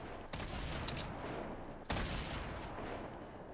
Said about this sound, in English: They're shooting grenades at us.